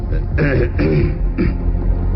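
A man clears his throat with a few short, gruff rasps close up, in a Bengali radio story narration, with a steady low hum underneath.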